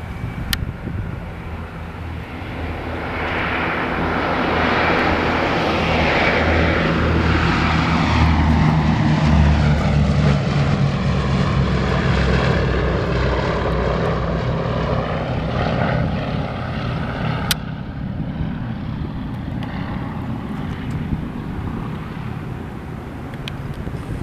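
A B-17F bomber, Sentimental Journey, climbing away after takeoff from Visalia Municipal in California, its radial piston engines and propellers giving a loud, steady drone that swells and then slowly fades as the aircraft pulls away.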